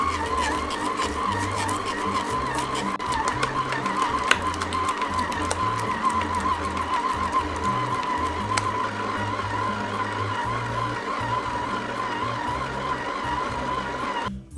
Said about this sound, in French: Et je pétris à nouveau pendant 8 à 10 minutes en vitesse 2.